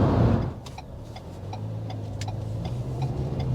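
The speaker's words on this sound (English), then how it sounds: "Auto start stop is nice and smooth." A 2023 Ford Maverick's engine restarting from auto start-stop: a short burst of cranking and revving up front, then a smooth steady low idle hum with faint ticking from the cabin, no talking.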